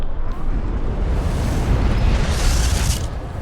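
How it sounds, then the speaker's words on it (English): A massive explosion in a horror video game engulfs Dante's manor in flames: a loud, sustained roaring blast with rumbling low end and crackling fire, steady for several seconds. "Lucius releases a massive explosion, engulfing Dante's manor in flames"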